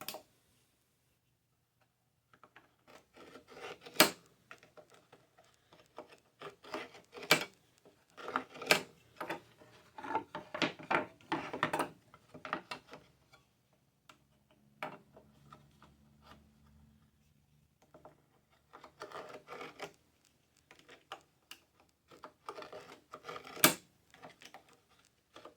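A knife scores a knife wall along a straight edge or square into a wooden workpiece on a bench hook, heard as quiet, scattered scratchy strokes and ticks with pauses between bursts.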